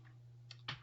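A few quick clicks from a computer keyboard, two soft keystrokes close by in a quiet room under a faint steady hum.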